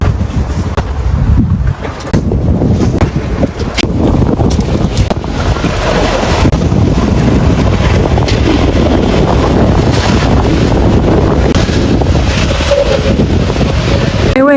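Strong wind buffets the microphone while riding a motorbike on a cool, windy day in China, a loud, constant roaring rumble throughout.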